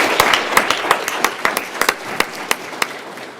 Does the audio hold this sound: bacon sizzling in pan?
no